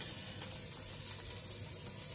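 Onions and garlic sizzle together in a hot pan, a steady hissing fry that runs evenly throughout at moderate level, with no talking over it.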